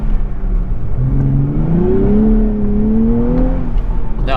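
A 400-horsepower Nissan Z sports car accelerates up a steep Vancouver hill, its engine note rising steadily in pitch, loud and close, with no talking.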